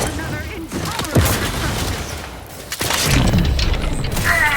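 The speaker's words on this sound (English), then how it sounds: "An explosion!" Explosion and gunfire in the video game The Outer Worlds 2, a loud blast with a sharp impact and a second burst near the middle, over continuous combat noise and game voices.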